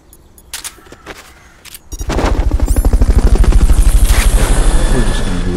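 A helicopter in the Metal Gear Solid: Peace Walker video game, heard after a Fulton recovery. A few sharp game effects come first, then a loud, steady rotor beat thumps rapidly and evenly until the end.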